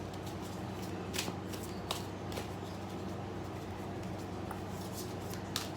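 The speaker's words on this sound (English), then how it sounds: "So I already shuffled, as I just said, but I like to do it with you here as well." Playing cards being shuffled for a tarot-style reading, a soft continuous riffling with occasional sharper snaps, close and fairly quiet with no talking.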